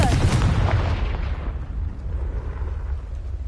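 A Confringo blasting spell explodes in the Hogwarts Legacy video game: a loud, sharp boom that rolls into a long, fading rumble, with no voices.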